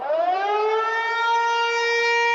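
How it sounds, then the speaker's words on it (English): An air raid siren sound effect plays loud and alone, a sustained rising wail that climbs and then holds a steady, piercing tone. "You just set off the air raid siren, bro."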